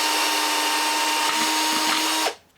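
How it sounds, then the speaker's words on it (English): A power drill bores holes through an aluminum pan lid being fitted with a wood mount for a satellite antenna, a steady loud whirring grind that runs continuously before stopping abruptly near the end. "I still have to drill some holes for the mounting screws to attach the wood to this metal piece."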